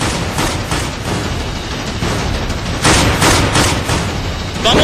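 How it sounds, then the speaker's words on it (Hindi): Gunfire in the Kashmir valley rattles in dense, overlapping bursts of cracks and booms, loud and continuous with a few sharper volleys toward the end. "गोलियों की आवाज से कांपता है कश्मीर"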